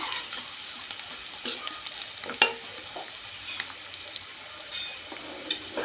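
Turmeric and coriander powder are stirred into hot oil with green chillies for an okra fry. A quiet sizzle runs under scraping spoon strokes, with one sharp clack of the utensil partway through.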